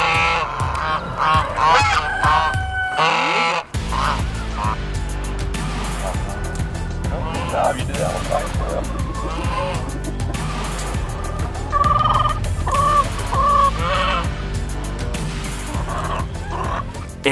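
Poultry calls from a small-scale pastured flock of composting chickens and egg layers, loud and continuous throughout, with repeated honking, squawking bursts over a steady farmyard din and no clear talk.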